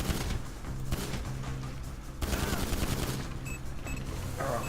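Rapid video game gunfire in dense bursts of automatic shots, loud and continuous with brief pauses, playing alone without talk.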